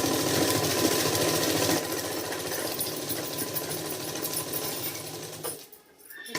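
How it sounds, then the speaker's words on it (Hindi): A sewing machine stitches a zigzag seam on salwar fabric, running loud and close in a fast, steady rattle for several seconds before slowing and stopping near the end. "बिल्कुल बीच में सिलाई चलानी है और बिल्कुल फिनिशिंग के साथ बस कपड़े को इस तरह से जल्दी जल्दी हिलाना है"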